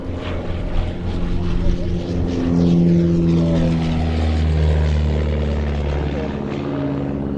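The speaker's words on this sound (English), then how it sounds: "He flies this aircraft with great verve, and it's always been a very sprightly performer, the Gemini" Miles Gemini light propeller aircraft flying, a steady droning engine and propeller hum with a slowly shifting pitch, continuous and fairly close, with people talking over it.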